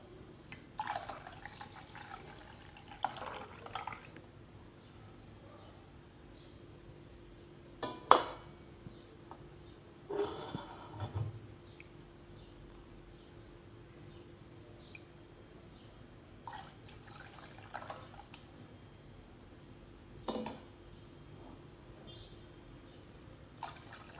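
Water poured into a lemonade mixture with sugar, faint intermittent splashes and drips spread across a quiet background.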